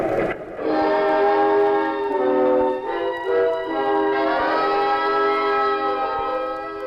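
A train horn blares with sustained harmonic tones over the rumble of a fast-moving train, loud and close, with no voices.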